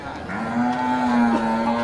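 An Aceh cow gives a single long, loud, close moo that holds a steady tone for nearly two seconds, heard alone at a cattle market stall.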